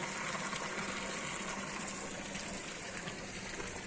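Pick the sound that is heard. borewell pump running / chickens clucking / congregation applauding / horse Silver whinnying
borewell pump running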